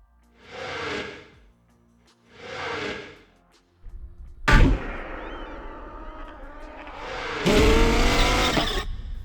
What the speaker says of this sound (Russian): А тут рев двигателя из следующей сцены.